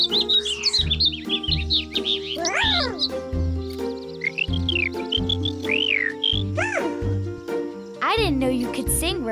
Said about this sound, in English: Birds talk to each other by singing beautiful songs.